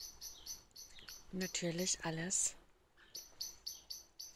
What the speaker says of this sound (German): Ich habe ja ein Amselpärchen, was bei mir brütet und was lautstark